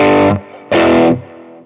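Electric guitar played through a Fractal Blues Jr. amp model with dual delay, mono bucket-brigade delay and medium spring reverb: two loud distorted chord stabs, each ringing briefly before dropping into a trailing delay wash.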